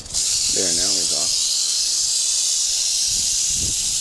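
A large, angry rattlesnake hisses loudly and steadily without pause during a catch-and-release, with a person's voice speaking briefly over the close, continuous hiss.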